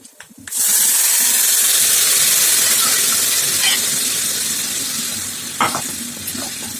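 Cooked bottle gourd drops into a hot kadai of tempering and bursts into a loud, steady sizzle and hiss, with a few faint stirring clinks as the frying continues.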